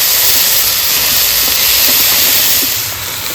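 Taro leaves tipped into hot oil with fried spices give off a loud, steady steam-like sizzle and hiss, close up and continuous, easing slightly toward the end.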